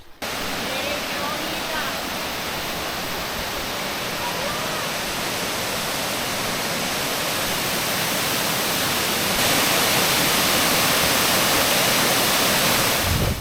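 A waterfall in New Zealand roars with a dense, constant rush of falling water, loud and close, growing slightly louder near the end, with no talking.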